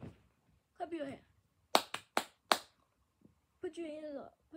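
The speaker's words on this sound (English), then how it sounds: "Clap your hand!" Four sharp hand claps in an uneven rhythm, close and loud, set between bursts of talking on a comedy stage show.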